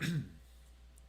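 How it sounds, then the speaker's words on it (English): A single short throat-clearing cough sounds close to the microphone at the start, then fades into quiet room tone. "Sorry I keep coughing, guys"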